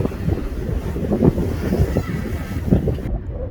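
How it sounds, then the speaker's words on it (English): A sailboat moves under sail with its engines off, approaching the island of Saba, with steady wind rushing across the microphone and waves washing and slapping against the hull in an unbroken, fairly loud stretch. "Now the engines are off and we're sailing again"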